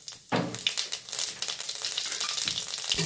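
Cumin seeds hit hot oil in a wok with a sudden loud sizzle after a short quiet start, then keep crackling and spitting steadily, with occasional stirring knocks.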